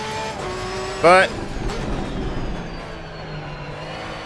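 Engine sound of an Aston Martin race car in a racing video game, a steady drone through the clip with a short sharp tonal burst near the middle, heard under someone talking.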